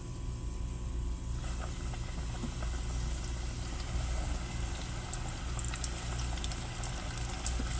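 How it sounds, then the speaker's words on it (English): Mustard-coated chicken deep frying in hot grease gives a steady, bubbling sizzle that holds at an even, moderate level from start to finish, with no one talking. "Just let it deep fry, y'all."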